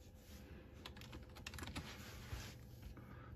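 Typing on a Microsoft Nano transceiver wireless computer keyboard: a steady run of soft, quick key clicks at moderate level, close and alone.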